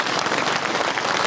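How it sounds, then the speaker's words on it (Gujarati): A village gathering's crowd claps continuously, a dense, even wash of many hands applauding at close range with no break. "2 હાથ ઊંચા કરીને તાળીઓ ચાલુ રાખો."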